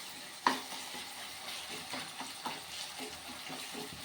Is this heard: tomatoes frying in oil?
yes